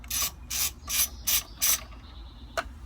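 Ratchet wrench with a 9/16 deep socket on an extension working loose the check valve of a condensate pump: five quick, loud, close ratcheting bursts in an even rhythm, then a brief metallic click near the end, with no talk.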